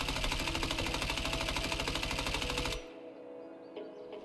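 Rapid automatic gunfire in the shooter game Escape from Tarkov, a loud dense stream of shots for almost three seconds, then stopping abruptly into quiet room tone with a faint click or two.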